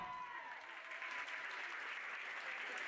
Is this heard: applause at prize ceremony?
yes